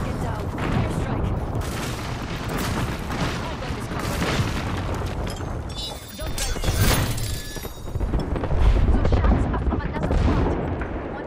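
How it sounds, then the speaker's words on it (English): Airstrike explosions in Apex Legends rumble in a dense, continuous barrage of deep booms and blasts, loud and sustained, with voices talking over the bombardment. "Airstrike."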